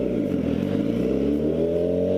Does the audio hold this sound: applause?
no